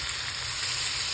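Butter bubbling in a pan for a popcorn dessert: a steady, dense hiss of sizzling and frying, close and even, with no voices over it.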